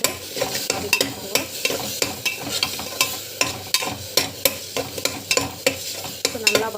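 Vegetables, with potato and peas, are sautéed with chili powder and salt in a pan. A spoon scrapes and stirs in a brisk, steady rhythm over a continuous sizzle, loud and close.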